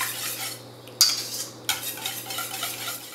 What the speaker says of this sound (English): Now whisk until well blended.